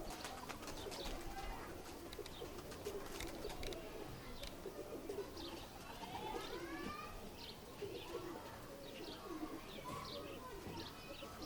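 A pigeon with yellow neck markings calls amid a steady, faint wash of bird noise, with soft cooing and scattered chirps spread throughout and no clear speech.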